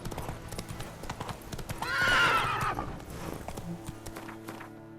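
A horse in The Witcher 3 video game whinnies loudly mid-clip over steady clip-clopping hooves at a walking pace, with faint game ambience behind.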